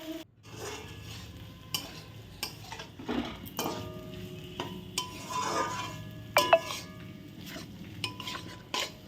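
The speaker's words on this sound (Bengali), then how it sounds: "আর এই দেখো মশলাগুলো দিয়ে একটু কষিয়ে নেবো ভালো করে এপিট ওপিট করে" Spice paste being stirred and fried in a pan at home, with repeated scraping and clinking of a spoon against the pan over a low sizzle, steady and close with no talking.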